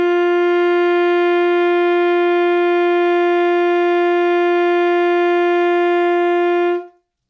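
A saxophone holds a single high G, fingered like the low G with the octave key added, as one steady, bright, loud tone lasting about seven seconds before it stops abruptly. No other sound accompanies it.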